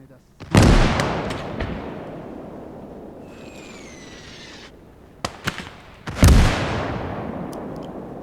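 Mortar shells exploding in the Gates of Hell strategy game, two loud deep booms a few seconds apart with long rumbling decays and some sharper cracks between them.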